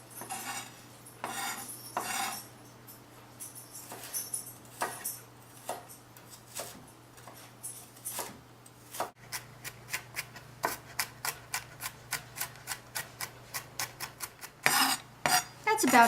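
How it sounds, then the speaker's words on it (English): A kitchen knife chops ramp bulbs on a cutting board, first in scattered strikes and then in a fast, steady run of close, crisp knocks, with no talking. "And then I'm going to also chop up my bulbs."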